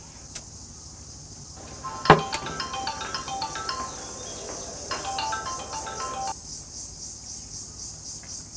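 A mobile phone ringtone plays a repeating melodic pattern for about four seconds, preceded by a sharp knock, over steady insect chirping in a quiet village house at night.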